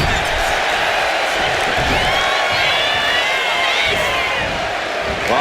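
Video game wrestling arena crowd in WWE 2K25 roars and cheers continuously, with whoops and scattered slams over a dense, steady wall of noise.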